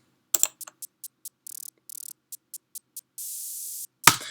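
A synthesized TR-808-style hi-hat made in Ableton Live's Operator plays a sparse pattern of short hissy ticks with a few longer bursts of noise, ending in a sharper crash.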